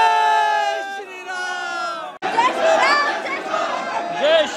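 A dense crowd of devotees at Hanumangarhi temple in Ayodhya, loud overlapping chatter and shouts close by, with a sustained chanted or sung tone at first before a sudden break into busy crowd noise.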